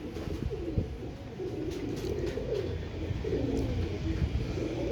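A male pigeon coos nearby in low, repeated throaty phrases that rise and fall across several seconds, with a soft background hum and no speech.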